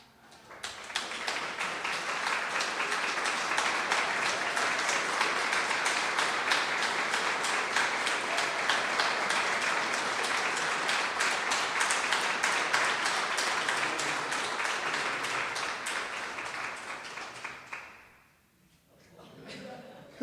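An audience applauds Belmont at a check presentation for a digital exhibition at the National Museum of African American history. Sustained, even clapping runs for about seventeen seconds, then fades out abruptly.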